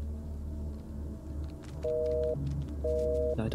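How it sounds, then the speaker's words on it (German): A phone line busy signal in the video game Blair Witch (2019) sounds as two evenly spaced steady tone pulses over a low rumbling background. "Leitung besetzt."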